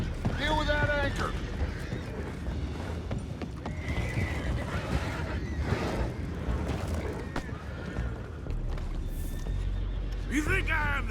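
Several horses in the Red Dead Redemption 2 video game whinny loudly at the start and end, with hoofbeats and bustling game action between them.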